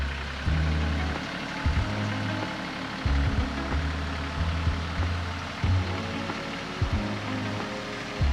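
A tractor engine runs at low throttle, a deep rumbling drone with repeated throaty surges as it works, fairly quiet and with no talk.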